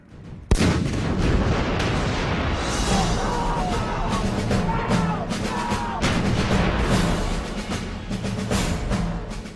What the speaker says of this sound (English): British and American troops began a massive artillery barrage onto the Iraqi positions in front of them.